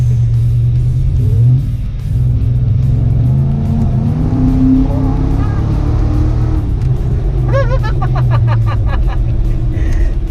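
A loud modified Toyota engine rumbles and revs close by, its low drone rising and falling, with someone briefly talking over it near the end.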